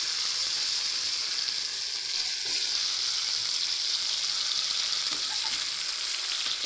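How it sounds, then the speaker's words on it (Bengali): Potatoes frying lightly in a little oil for a cauliflower dalna, giving a steady, close, even sizzle that holds throughout with no talking. "আলুগুলো কিন্তু ফুলকপির মতো হালকা একটু অল্প করে ভেজে নেব।"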